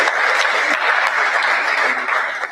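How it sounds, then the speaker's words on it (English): Loud, sustained audience applause for a university Vice-Chancellor after a distinguished lecture, dense, even clapping that continues throughout with only a slight fade at the end. "Please, another round of applause for our Vice-Chancellor."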